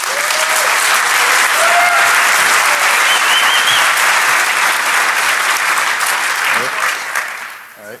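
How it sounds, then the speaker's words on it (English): Loud, sustained audience applause for a first-time speaker at the Defcon 21 hacker conference, a dense wash of clapping and some crowd noise that holds steady for several seconds before tapering off at the end. "Please give him a big round of applause."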